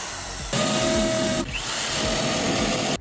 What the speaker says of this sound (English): We're gonna use a smaller drill bit and open out the holes.